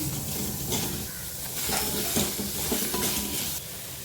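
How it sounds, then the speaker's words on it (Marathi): Onion, ginger and garlic sautéed together in oil for misal pav, a loud steady sizzle with repeated scraping and stirring strokes of a spoon against the pan. "कांदा आलं आणि लसूण सर्व एकत्र भाजून घ्यायचं कांदा गुलाबी होईपर्यंत कांदा परतून घ्यायचा"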